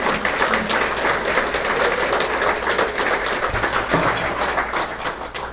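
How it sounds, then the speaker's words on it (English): Audience applauding for 50th reunion attendees at a school alumni breakfast, steady dense clapping from a crowd throughout, loud and sustained without pause. "please join me in giving a round of applause to our 50th reunion attendees"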